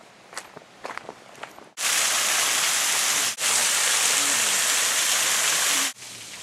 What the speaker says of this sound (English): So I've stopped off now at a waterfall along the way.